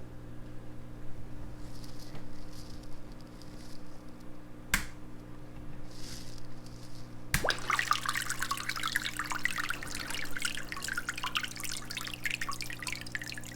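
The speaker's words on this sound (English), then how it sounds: "Okay, wow, that is a really powerful pump" A powerful pump in a nano reef saltwater aquarium switches on partway through, bringing a steady broad rush of churning, splashing water after a quieter stretch with a few scattered drips and clicks; no one speaks.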